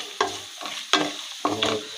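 Spices are tempered in hot oil in a pan and stirred, giving four sharp sizzling bursts spaced about half a second apart, close and fairly loud, with no talk.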